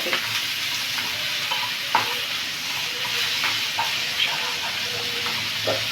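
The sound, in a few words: bitter gourd curry frying and being stirred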